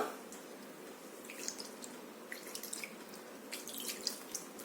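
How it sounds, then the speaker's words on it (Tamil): Plain room-temperature water poured into wheat flour while mixing biscuit dough gives a faint, close trickle with light drips and wet splashes, steady but quiet. "தண்ணி விட்டு நார்மல் வாட்டர் தான் ஹாட் வாட்டர் கிடையாது நார்மல் வாட்டர் வச்சே கலந்துக்கலாம்"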